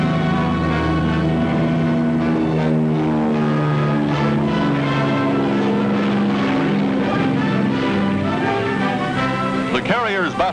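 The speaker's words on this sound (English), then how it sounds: "Enemy planes attacking in force." Several WWII propeller warplanes attack in force, their engines making a loud, sustained droning roar throughout, with a voice briefly heard near the end.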